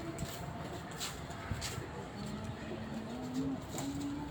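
Pigeons kept by a Rawalpindi bird fancier coo softly in a low, wavering drone, several drawn-out calls rising and falling against a faint background hiss with no voices.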